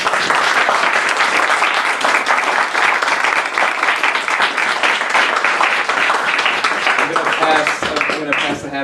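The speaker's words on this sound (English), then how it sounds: "let's give Peg a round of applause quick" Audience applause for lecturer Peg Millett at Burning Books in Buffalo, NY: dense, steady clapping from a crowd, loud and sustained for about eight seconds before tapering off.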